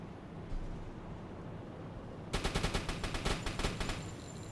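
Anti-aircraft guns on a U-boat open up at a circling plane in the UBOAT naval game, a rapid rhythmic burst of loud gunfire over a steady background of wind and sea noise.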